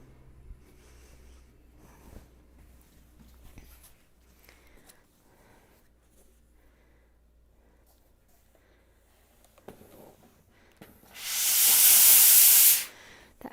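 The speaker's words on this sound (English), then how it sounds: "That first blast of steam often has droplets in it." A steam iron lets out its first blast of steam over quilting fabric: a sudden loud hiss lasting about two seconds after long near-quiet stretches with faint handling sounds.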